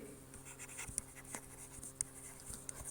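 A pen scratches across paper as a short accounting narration is written by hand, faint strokes with a few sharper taps, close and quiet with no talking.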